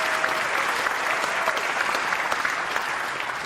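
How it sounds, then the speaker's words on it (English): Sustained applause from a large audience at the Conservative Party Conference, dense steady clapping that fills the hall evenly with no speech over it. "So let's give him another round of applause while he's actually doing the job."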